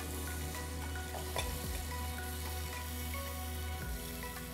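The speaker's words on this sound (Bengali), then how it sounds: "একটু নাড়া দিতে হবে" Spiced chickpeas and minced meat fry in a pan with a steady, even sizzle, joined by a few soft scrapes of stirring; continuous and moderately quiet throughout.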